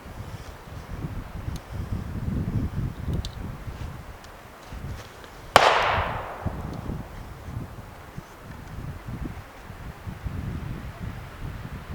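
A single sharp AR rifle shot cracks out outdoors, fitted with a Bushnell 3-9X scope, standing out loudly against steady wind noise and rustling.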